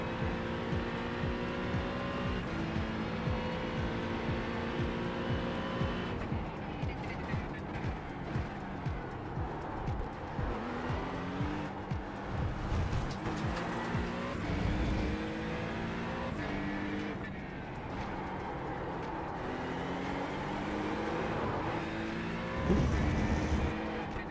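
A GT3 race car engine at Fuji in a racing game drones steadily throughout, its pitch climbing and dropping with upshifts and braking, loud and close with no talk over it.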